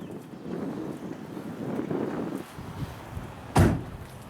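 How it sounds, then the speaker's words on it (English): A 1970 Chevrolet Monte Carlo door shutting, one solid close thump after a stretch of faint outdoor wind and rustle. "Doors shut perfectly."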